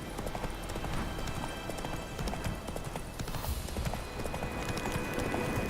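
Roach, a horse in The Witcher 3, gallops with continuous rapid hoofbeats pounding close and loud throughout, a dense steady rhythm with no talking.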